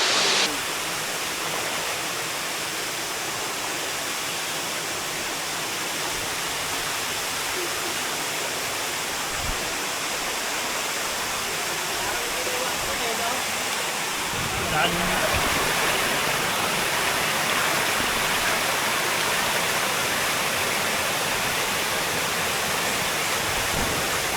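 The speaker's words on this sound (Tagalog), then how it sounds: "Tapos yung binabagsakan ng falls." Pisyo Falls, a waterfall in Siniloan, Laguna, in the Sierra Madre, roars with a steady, dense rush of falling water that grows slightly louder partway through.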